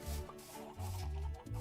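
Chickens in the video game Minecraft cluck in short, repeated low calls from several birds, fairly close and steady across the moment, with no talking.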